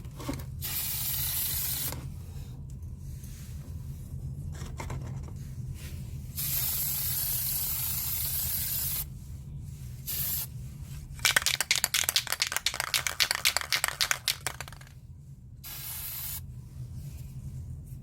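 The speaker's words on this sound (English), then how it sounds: "It's probably going to need at least two spray paints." A spray paint can hisses while coating a DIY modern sculpture built from cones and Dollar Tree supplies. Several long, close hissing bursts are separated by short pauses, and one rapid sputtering spray comes near the middle.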